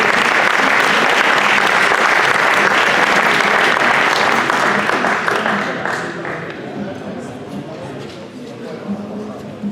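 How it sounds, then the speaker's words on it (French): Audience applause at a 2015 diploma award ceremony, a dense, loud wash of clapping that continues steadily before thinning and fading toward the end. "sous nos applaudissements pour la photographie"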